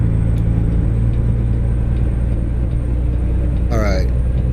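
A heavy-haul truck engine in American Truck Simulator idles with a steady, low rumbling drone, close and constant, and a brief voice cuts in near the end.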